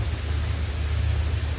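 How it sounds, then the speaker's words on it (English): Heavy pouring rain at a home with a garden, a dense, loud, unbroken roar of downpour with no voices. "It's pouring rain"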